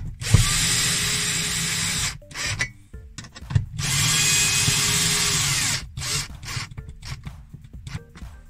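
A power drill whirs in two long sustained bursts, with shorter stuttering bursts and clicks of the screw being driven between and after them, up close, fixing a lamp in a camper van.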